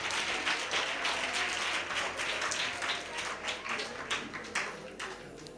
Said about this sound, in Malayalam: നല്ലൊരു കൈയടി കൊടുക്കാം അതിലേക്ക്